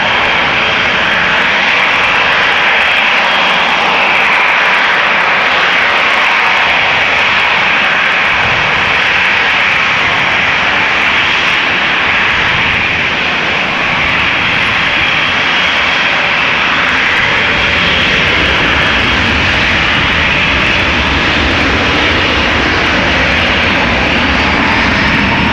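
A KLM Embraer 175 jet at Amsterdam Schiphol Airport holds a loud, steady engine roar and whine for the whole stretch, close and continuous, with no talk.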